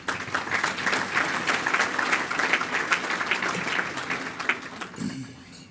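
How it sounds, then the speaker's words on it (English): An audience at a county chamber gathering bursts into loud, sustained applause, a thick steady clatter of many hands that stops abruptly near the end. "So give yourselves a round of applause"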